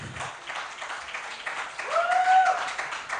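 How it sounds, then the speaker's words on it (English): Applause from the audience at a film festival panel session, a short burst of moderate clapping from a room of people, with a brief whoop rising near the end and no speech. "Ladies and gentlemen, please a round of applause"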